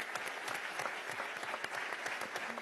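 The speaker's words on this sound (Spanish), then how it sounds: "Un abrazo y un aplauso desde aquí, desde la Asamblea Nacional de Venezuela." Applause in Venezuela's National Assembly during a session, a steady, dense burst of many hands clapping from a moderately distant crowd, without speech.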